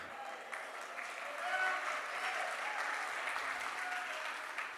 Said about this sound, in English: cheer, clap, make some noise